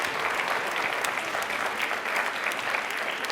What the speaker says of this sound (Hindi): बट एक बार तालियां जोरदार हो जाए इनके लिए प्लीज।